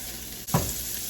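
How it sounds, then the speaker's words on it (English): Cubed smoked ham is tossed in a hot pan for Cuban-style red beans, giving a close, steady sizzle broken by one brief thump as the pieces are moved. "Just gonna toss that around and make sure it cooks very well."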